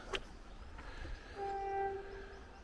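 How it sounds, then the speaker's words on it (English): A train horn sounds faintly in the distance, a sustained tonal blast over low background rumble. "There's a train coming as well"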